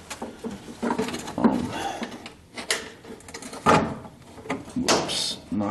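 A work light gets knocked down in a garage during an alarm tamper switch install on a 1976 Corvette restomod, giving a run of clattering knocks and scraping bumps, loud and close, with no talk.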